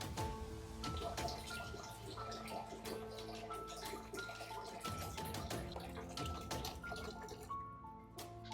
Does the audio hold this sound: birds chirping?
no